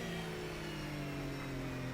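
A simulated Porsche 997 engine holds a steady, loud drone in fourth gear in the rFactor racing game, with a constant mid-pitched hum and no change in revs.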